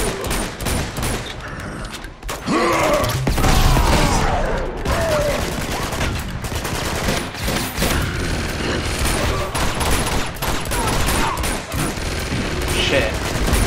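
Sustained gunfire in an Uncharted 2 shootout against guardians, dense overlapping shots and bursts running nearly unbroken, loud and close, with shouting voices mixed in.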